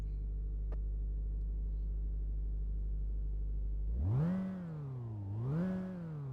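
An old truck engine idles with a steady low drone, then is revved twice in quick succession, each rise swelling louder before falling back, heard up close with no talking.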